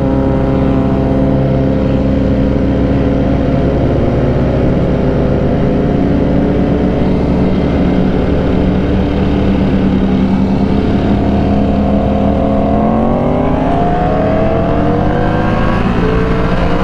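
A 2009 Yamaha R1 sport motorcycle with a larger rear tire accelerates hard at speed in second gear, its engine note loud and close, rising steadily in pitch toward the end.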